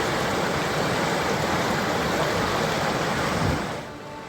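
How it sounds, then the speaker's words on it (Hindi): A swollen, flooding river rushes loudly and steadily, a dense unbroken roar of water that drops off slightly at the end. "उफान पर नदियां"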